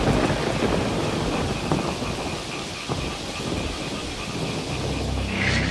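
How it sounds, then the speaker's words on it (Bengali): Rain pours down hard at night at around ten o'clock, a steady dense hiss and patter with low rumbling underneath, loud and continuous throughout with no voices. "বৃষ্টির ঝমঝম আওয়াজের সাথে ব্যাঙেদের ডাক কানে ভেসে আসছে।"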